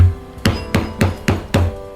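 Leather being punched for stitching holes on a half-moon shoulder bag: five sharp, evenly spaced mallet strikes on a pronged punch, close and fairly loud, each with a brief ringing decay, no talking.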